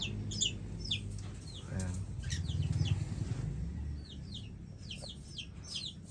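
Small and medium pet parrots in a cage chirp and squawk in quick repeated bursts throughout, fairly close, with a low room rumble and a brief spoken word partway through.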